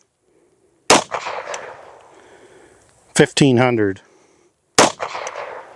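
Two sharp, loud CZ-52 pistol shots with 85 grain full metal jacket rounds, each followed by a short ringing decay, with someone speaking briefly between them.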